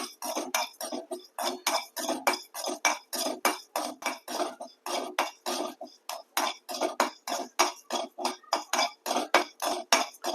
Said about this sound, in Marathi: इथं मस्त तापलेल्या कढईमध्ये आपण हा मसाला भाजून घेतोय